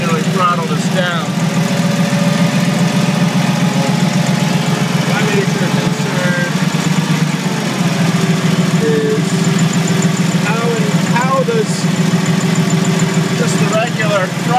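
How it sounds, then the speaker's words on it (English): A 1971 Clark C500 Y80 forklift engine with a throttle linkage fault idles high in a constant, loud, close drone with a steady low rumble, and someone talks over it throughout. "I've had it running for about 10 minutes now, and it still continues to idle high unless I manually throttle this down."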